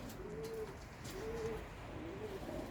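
Boğmacı pigeons coo in three low, drawn-out calls, evenly spaced and fairly close, over a steady background hum with no one speaking.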